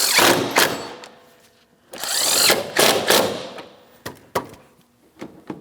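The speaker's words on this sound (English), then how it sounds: "let's tighten our mounting bolts." Tightening of mounting bolts on a 2007-2014 Ford Edge front bumper cover with a power tool, heard close as several loud bursts of mechanical whirring followed by a few sharp knocks.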